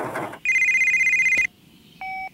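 A telephone rings with a steady electronic trill lasting about a second, then gives a shorter second ring after a pause. The sound is loud and close, and no one speaks over it.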